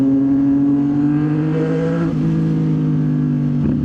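A CFMoto 675 NK motorcycle accelerates hard, its engine note loud and steady with a brief shift in pitch partway through, heard close and alone.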